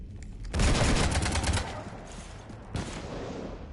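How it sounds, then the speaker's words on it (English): A rapid, loud burst of gunfire from Mass Effect strafes a ship for about a second, then continues as a rougher, fainter rattle, with a second sharper burst near the end. "You want to stop shooting up my ship?"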